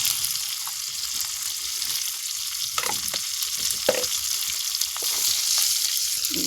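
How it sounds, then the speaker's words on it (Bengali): Bengali five-spice tempering hitting hot oil in a pan where prawns and onion are cooking, a loud, continuous crackling sizzle with occasional pops and spatters, close up and with no voices. "এবার আমি একটু 5 ফোড়ন দিয়ে দিচ্ছি।"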